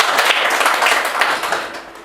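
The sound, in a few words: audience applause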